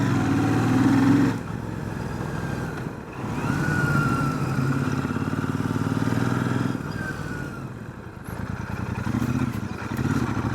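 Royal Enfield Super Meteor 650 parallel-twin engine roaring loud and close as the motorcycle is ridden hard, with sustained revving that dips briefly during gear changes and then climbs again.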